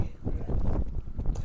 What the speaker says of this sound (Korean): 지금 이 구간은 지금 등바람이 아니라 강력한 맞바람이 불고 있었어요.